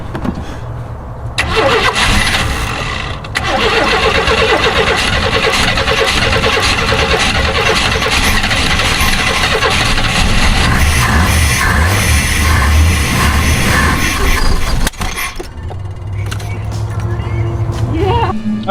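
A 1992 Chevrolet conversion van that sat for nearly a decade cranks, catches and runs with a loud, rough, steady engine roar close by, then cuts out near the end and is followed by a quieter stretch.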